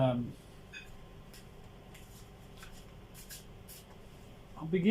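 Soft, quick papery riffling of a deck of cards being shuffled, quiet and close, with a voice at the start and end.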